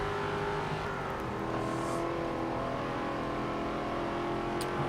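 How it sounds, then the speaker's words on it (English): A Formula E race car driving in Forza Motorsport 7, its electric drivetrain giving a steady whine with layered tonal hum, continuous and moderately loud throughout, with occasional brief high tire or scrape noises. "Formula E car."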